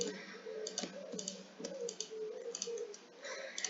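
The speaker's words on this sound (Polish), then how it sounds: "Muszę tak 10 razy kliknąć." Mouse button clicked over and over in a brain-upgrade simulator computer game, quick uneven bursts of light clicks up close, with a low background tone underneath and no talking.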